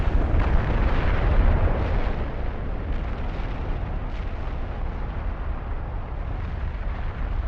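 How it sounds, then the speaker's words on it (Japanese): A volcanic fissure eruption on the flank outside the caldera of Izu Oshima, a loud, continuous, deep rumbling roar that holds steady throughout without pause. "カルデラの外側の山腹から新たに割れ目噴火が始まります"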